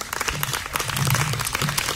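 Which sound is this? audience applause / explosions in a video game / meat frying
audience applause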